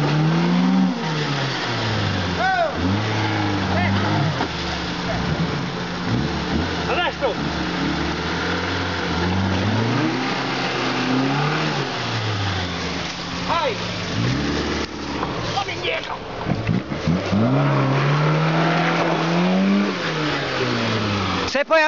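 A car engine revs and surges repeatedly on dirt, its pitch climbing and falling through long pushes while the exhaust spits out clods of soil; people talk over the engine noise throughout.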